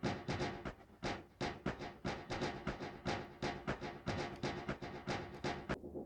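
Music production loop played without EQ, repeating rhythmic percussive hits with a dense, full-range texture, steady pulse throughout, quiet and unaccompanied by talk.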